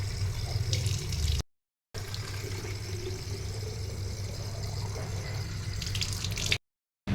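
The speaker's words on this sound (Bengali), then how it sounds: "এখানে কলটা হয়ে একটা সুবিধা হয়েছে যে এখান থেকে আমি জলটা কিন্তু ভরতে পারি" Water runs steadily from a newly fitted tap at a home, a continuous splashing stream that cuts out briefly twice, with no talking.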